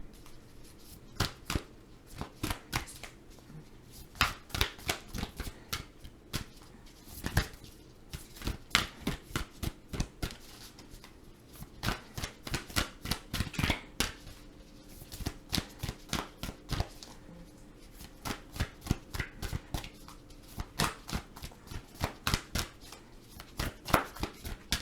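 Ancestor oracle cards being shuffled for a reading, a long run of quick, crisp riffling bursts in a steady rhythm, close and fairly quiet.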